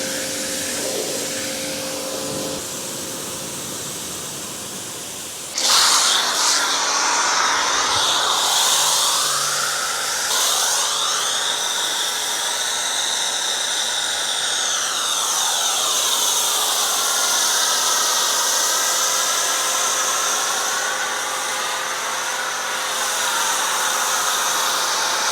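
Pressure washer spraying the first rinse over the paint of a 15-year-old Subaru WRX during detailing: a loud, steady broadband hiss starts abruptly and rushes on continuously, rising and falling slightly as the spray moves.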